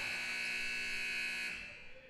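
A basketball arena's end-of-period buzzer at a girls' high school game sounds as a loud, steady electronic tone for about a second and a half, then cuts off and leaves faint room noise.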